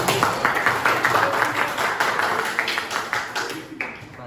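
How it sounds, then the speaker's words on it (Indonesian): Classroom applause: a group of students clapping steadily for several seconds, a dense patter of hand claps at moderate loudness that thins out near the end. "Ya, tepuk tangan."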